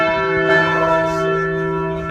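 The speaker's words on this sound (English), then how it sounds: "There's a bell right above me" A church bell rings in the Mother Teresa clock tower in Pristina, Kosovo, heard up close from right beneath it, its sustained tone humming steadily with layered overtones and no talking.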